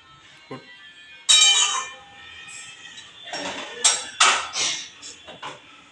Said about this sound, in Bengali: এবার ওই মশলাটা দিয়ে চিকেনটা ভালো করে কষিয়ে নিতে হবে